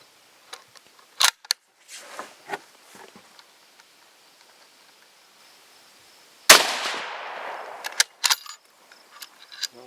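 A Savage Model 340 rifle in .30-30 Winchester fires antique ammunition: a few sharp reports and metallic action clicks, then one loud close blast with a long ringing decay, followed by more clacks of the bolt.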